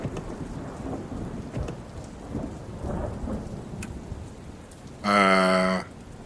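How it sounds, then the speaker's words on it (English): Steady rain patters throughout with a few low rumbles of thunder in the video game Dustland Delivery, then a loud tonal burst cuts in briefly near the end. "Rain."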